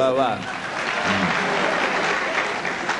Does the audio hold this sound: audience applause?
yes